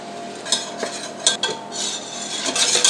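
A butter and flour roux for béchamel is stirred in a pot with a utensil, giving steady scraping and clinking strokes with a few sharper knocks against the pan. The sound is close and clear, with a faint sizzle beneath and no talking.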